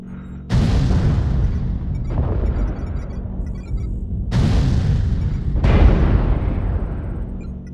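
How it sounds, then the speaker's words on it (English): Artillery strike explosions in a first-person shooter game: four heavy booming blasts land one after another with rumbling tails, loud and close, with no talk over them. "Artillery strike activated."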